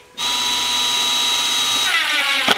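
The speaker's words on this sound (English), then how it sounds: "Now I gotta get these guys drilled through." A power drill boring through wood, one continuous loud whine that starts abruptly and holds steady, then roughens and shifts as the bit bites in before cutting off near the end.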